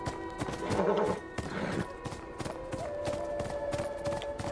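A horse in the video game Beyond: Two Souls trots with steady clip-clop hoofbeats and gives a neigh early on, the footfalls continuing evenly at close range over a faint sustained game tone.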